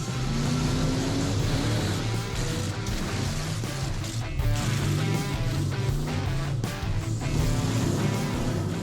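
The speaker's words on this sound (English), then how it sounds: "Alexandre accelerates to show off his engine's performance." A monster truck engine at a stunt show revs and accelerates hard, a loud, continuous roar with rising pitch swells, close up and dense.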